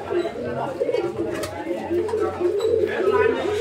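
A male pigeon sitting on eggs, a rare fancy breed kept in a cage, coos in low, steady rumbling tones close by, with some chatter and movement sounds around it.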